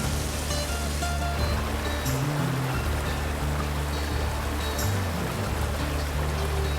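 Whitewater rapids on the Colorado River make a steady, broad rushing roar of churning water, loud and unbroken throughout, with a low rumbling undertone.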